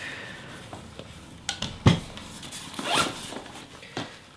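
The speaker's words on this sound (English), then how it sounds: "Inside also you can see a small zip." Small interior zipper on a Lowepro GoPro Seeker camera bag being pulled open, a close, quick rasping run with a few soft handling clicks and rustles around it, heard alone.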